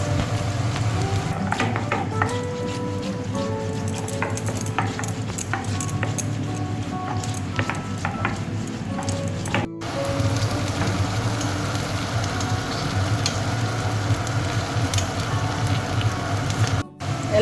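Onions frying in a pan on a home stove, a continuous crackling sizzle, close and steady throughout, with occasional faint clinks.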